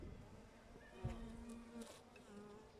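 A honey bee buzzes close by while honey spillage is being handled after a first honey crop, its steady drone rising briefly with a soft bump near the middle, without any talk.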